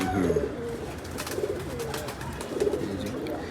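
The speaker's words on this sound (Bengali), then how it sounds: "মাকড়া কবুতর আমার মাকড়া কবুতর" Repeated soft, throaty cooing from a nearby makra pigeon of a tournament breed, three rolling coos spaced about a second apart over a steady background hum.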